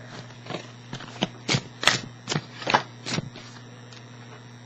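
Tarot cards being shuffled by hand, a series of crisp riffling bursts in an irregular rhythm, about a dozen close, distinct flicks over a faint steady background hum.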